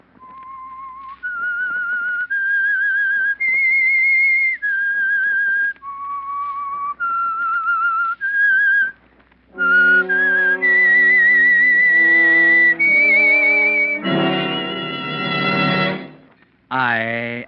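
Whistled theme signal of The Whistler radio program: a solo whistled melody of sustained rising and falling notes, followed by an orchestral passage of the same theme, loud and clear.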